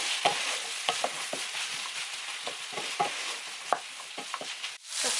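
Food cooking in a pan is stirred, with repeated scraping strokes and soft knocks from the utensil over a continuous sizzle, close and without talk.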